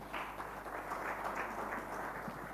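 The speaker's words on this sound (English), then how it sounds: "So I think you deserve a round of applause for coming here" Audience applause at a foundation launch in a hotel, a dense, continuous wash of many hands clapping at moderate distance, steady throughout with no talk.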